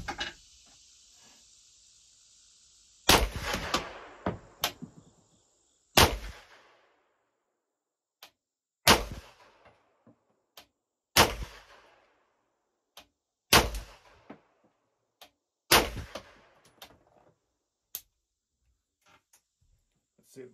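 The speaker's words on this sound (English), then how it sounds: "let's sight this thing in so we can get shooting it" Brigade BMF9 pistol fired while sighting in, about seven or eight sharp loud shots spaced a couple of seconds apart with fainter pops between, outdoors with some echo.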